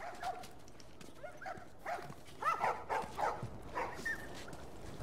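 Dog barking in the video game The Last of Us, several fairly quiet, irregular barks and yelps in a short flurry over a low background hum.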